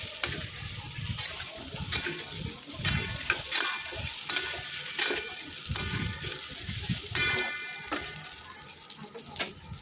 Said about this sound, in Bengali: মশলার সাথে মিশিয়ে আর একটু ভাজা ভাজা করে নিতে হবে।